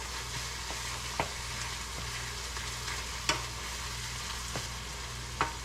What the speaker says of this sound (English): The ground beef is getting brown.